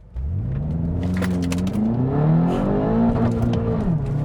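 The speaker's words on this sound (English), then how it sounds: "I'm just gonna brake boost a little bit. We'll see how well it gets out of a dig." A 567 hp 2016 BMW X5M launches hard from a standstill after brake boosting, its engine roaring loudly and steadily up through the revs with rising, falling pitch sweeps as it pulls away, close and continuous with no voices.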